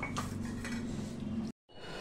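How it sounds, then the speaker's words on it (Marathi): Almond milkshake is transferred into a vessel at home, with soft metallic clinks and scraping from the pot and utensil, fairly quiet and continuous, then a brief silence. "हा मिल्कशेक मी छान या भांड्यात काढून घेतला"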